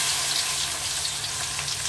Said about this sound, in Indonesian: Kencurnya digoreng terlebih dahulu.